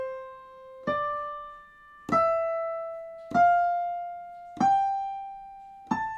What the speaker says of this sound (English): So here's the sound of that A natural minor.